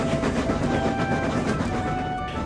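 A steam engine pulling a train rumbles along with a continuous clickety-clack, loud and steady throughout the short stretch, with no voices.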